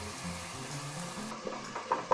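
Carom seeds and whole cumin frying in oil with ground spices, a soft continuous sizzle with light stirring scrapes toward the end, quiet and close.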